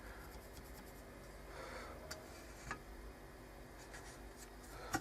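Thick black marker drawn along a metal trailer part marked for angle grinding, heard as faint scratchy writing strokes and a few light ticks over a quiet workshop background, with no talking.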